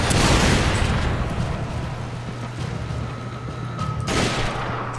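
Rocket launcher fire and explosions in Resident Evil 5, a loud opening blast followed by rumbling battle noise and another sharp burst near the end, with no talking.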